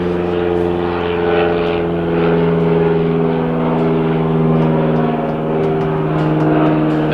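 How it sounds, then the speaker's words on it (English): A loud, steady propeller airplane drone fills the clip, rising and falling slightly as it passes overhead, with no voices. "Fucking aeroplanes."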